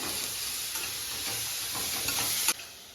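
Steady, close sizzling of food frying in a pan, with faint stirring scrapes and a brief clink near the end.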